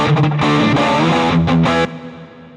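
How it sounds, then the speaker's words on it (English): Distorted electric guitar chords through an Axe-Fx II set to a large room reverb ring out with a huge, washy reverb, then cut off, leaving a long reverberant tail fading away. "get a really large reverb, like the large room"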